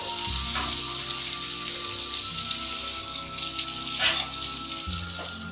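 Egg-soaked bread fries in butter in a pan, giving a steady crackling sizzle throughout. Soft clatter and a few louder touches sound as the slices are placed and moved.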